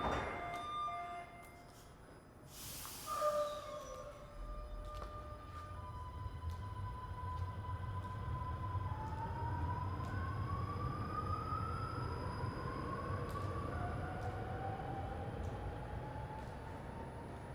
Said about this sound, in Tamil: கதவை மூடிட்டு ட்ரெயின் போகுது.